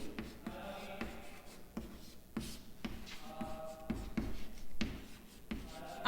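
A teacher writing during a lesson: quick, irregular scratchy strokes and taps, fairly close, continuing in uneven bursts with brief pauses.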